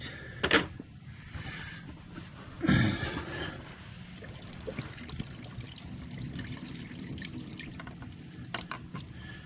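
Antifreeze coolant pours and trickles out of a 2019 BMW X3 G01's 2.0L B46 turbo engine during oil filter housing and water neck replacement, a steady close liquid dribble with two brief louder gushes early on.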